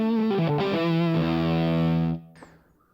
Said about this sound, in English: I can turn off and on the fuzz.